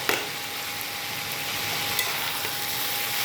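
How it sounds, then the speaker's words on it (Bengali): Banana flower curry with potato, eggplant and chickpeas being stirred in a pan, a soft steady sizzle with faint scraping of the spoon, quiet and close, with no talking. "এটা এই আলুর সাথে, বেগুনের সাথে, ছোলার সাথে খুব ভালো করে মিশিয়ে নেব।"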